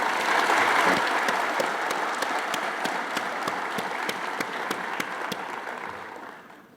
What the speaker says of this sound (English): I propose a big applause for all of you who have received this award.